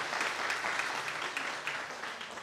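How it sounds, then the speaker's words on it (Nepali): Steady, dense applause from an audience at a savings and credit cooperative ceremony in Nepal, with clapping filling the whole stretch at an even, fairly loud level. "ताली बजाउन म सबैलाई अनुरोध गर्दछु"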